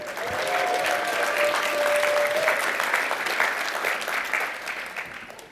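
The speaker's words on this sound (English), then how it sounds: "assume that one would get the longest applause" Keynote audience at a tech conference breaks into sustained applause, a broad steady wash of clapping that holds and then slowly tapers, with a brief tonal hum near the start.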